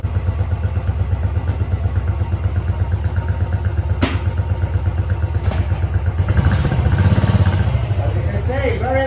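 A Royal Enfield Classic 500 Stealth Black motorcycle thumping at idle up close with a steady single-cylinder beat, then revving and pulling away louder, while someone talks over it.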